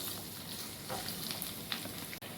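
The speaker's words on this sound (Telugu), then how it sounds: "కాకరకాయ కూడా బాగా ఫ్రై కావాలండి." Bitter gourd slices frying in hot oil with curry leaves, a steady close sizzle and crackle running throughout, with a few brighter pops and no voices.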